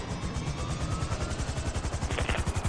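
A helicopter in GTA 5 Online thumps with rapid, rhythmic rotor chops, steady and fairly close, the low pulses running throughout at moderate loudness.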